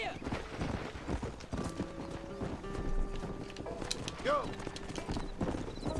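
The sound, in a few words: horse galloping in video game Red Dead Redemption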